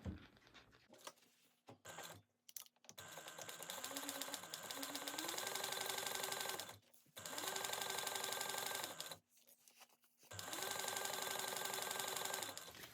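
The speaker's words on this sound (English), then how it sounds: "you're going to sew this at a 3/8 inch seam allowance" A sewing machine stitches a 3/8 inch seam on a crossbody bag in a studio, running in several steady whirring bursts with rhythmic needle clatter, separated by short pauses, no talking.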